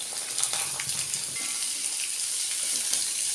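Green beans tipped into hot oil already crackling with mustard seeds, a cut dry red chilli and curry leaves for a Kerala beans thoran, giving a steady close sizzle and fry hiss with faint stirring, no voices.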